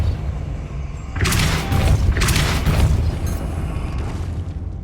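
Depulso, a force-push spell, cast in the Hogwarts Legacy video game, giving two loud whooshing bursts, each a broad rushing blast over a constant heavy rumble of game ambience.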